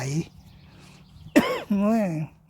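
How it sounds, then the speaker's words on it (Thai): A person clears their throat and coughs after smelling a bouquet of flowers: a brief rough rasp, a pause, then a sharper cough followed by a drawn-out voiced throat sound, close and fairly quiet. "ได้กลิ่นช่อดอกไม้ก็กระแอมกระไอ เพราะมันหอม"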